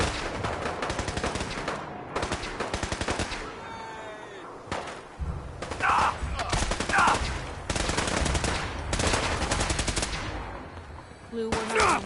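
Rapid automatic gunfire from the Fallout 4 video game, loud bursts of machine-gun fire and overlapping shots in several long volleys, with brief pauses and voiced shouts in between.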